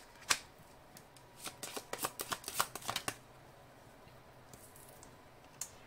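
Oracle cards are shuffled in a quick run of crisp riffling snaps and flutters, close and clear, followed by quieter pauses and a last soft tap.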